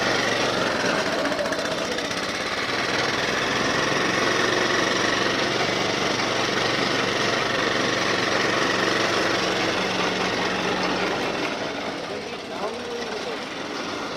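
A roadside sugarcane juice press runs off a motorbike engine, giving a loud, continuous rattling mechanical drone that holds steady throughout, with voices faintly beneath it.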